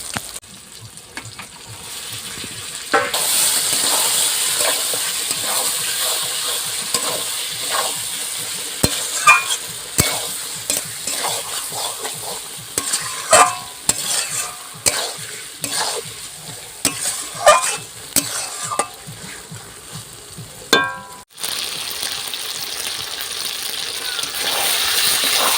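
Chicken hits spiced oil in a pan with a loud burst of sizzling, followed by a long stretch of frying crackle and repeated scraping stirs, close up, with brief speech in places.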